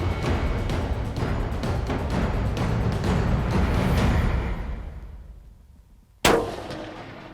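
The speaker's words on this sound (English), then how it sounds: "made a perfect shot." A rifle fires at a whitetail buck in Central Texas: one sharp, loud crack near the end, breaking a quiet lull that follows several seconds of steady, fading outdoor rumble.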